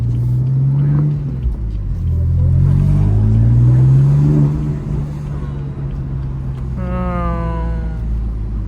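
A BMW F80 M3 accelerates, its engine and intake droning low and rising in pitch through a gear before easing off. A faint rumble stays underneath, and a brief higher tonal whine enters near the end.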